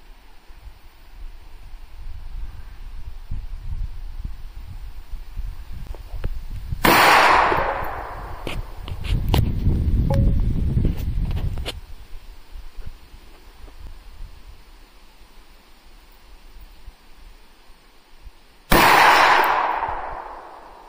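Gunshots fired from the hip in rapid bump-fire fashion at an outdoor Labor Day gathering: two sharp, loud blasts several seconds apart, with a burst of crackling shots between them over background noise.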